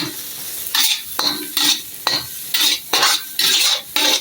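A spatula stirs egg frying in a pan: a steady hiss of sizzling runs throughout, broken by repeated scraping strokes against the metal in a loose rhythm, close up and with no talking.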